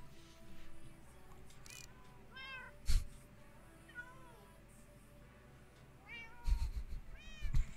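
Cats meow repeatedly in the game Minecraft, short rising calls scattered through a busy stretch with other game sounds and occasional thumps underneath.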